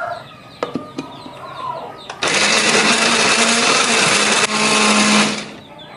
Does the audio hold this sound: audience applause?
no